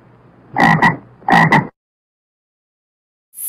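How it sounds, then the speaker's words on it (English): A frog gives two close, loud croaks, each a quick double pulse, followed by quiet. "Frog."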